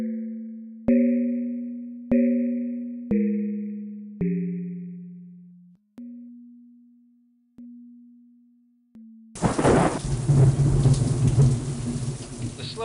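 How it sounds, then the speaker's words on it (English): Thunderstorm with heavy pouring rain breaking in loud and sudden after a run of soft synthetic chiming tones, the downpour roaring steadily with low rumbling thunder beneath it. "The slow-moving storm that had loomed over their drive to Scott's house had finally arrived, and in the flashing lightning and pouring rain, Brett could not see very much out of the"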